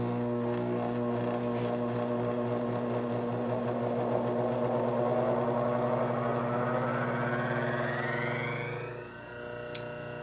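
A Oneway Vari-Grind bench grinder with a Kodiak tool platform, running on a less-than-one-horsepower motor, hums steadily as it slowly ramps up, a rising whine climbing over several seconds before the sound drops off; no one talks.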